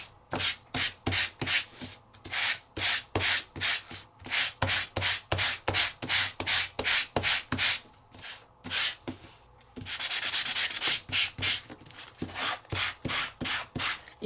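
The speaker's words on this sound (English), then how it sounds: "You've got sandpaper on all 4 sides." Sandpaper rubbed back and forth across an embossed craft panel makes rhythmic, close scratchy strokes, roughly two per second, continuing steadily with a slightly harsher stretch near the end.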